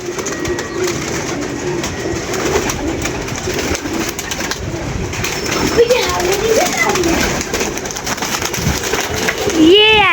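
Pigeons coo while feeding, soft throaty calls rising over a busy outdoor background, with people talking nearby and a louder call close by at the very end.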